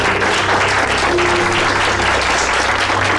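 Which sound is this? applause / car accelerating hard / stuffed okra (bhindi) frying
applause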